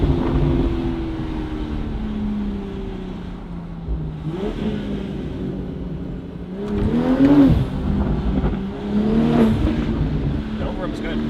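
A BMW G26 M440i with a Valvetronic Designs exhaust revs in several rising and falling bursts, then settles into crackly overrun, loud and close, with someone talking over parts of it.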